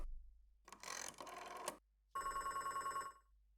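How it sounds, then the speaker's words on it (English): A telephone rings in the video game Beacon Pines: a buzzing bell rings twice in quick bursts, pauses, then trills again in a clear pulsing ring, close and alone over a low hum. "Mysterious phone call."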